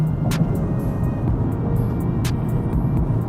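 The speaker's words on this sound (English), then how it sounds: "So yeah, car is kind of dumb loud." A Nissan 350Z with stock headers and catalytic converters, muffler and an ISR mid-pipe drones loud and close with a deep, steady rumbling exhaust tone, with a couple of sharp ticks over it.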